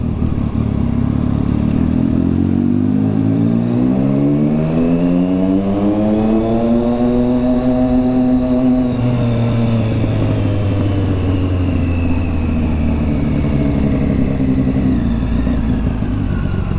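A Triumph Street Triple 675 motorcycle on the move: a loud, continuous engine drone whose pitch climbs smoothly, holds, then sinks again over several seconds, with steady wind and road rumble underneath.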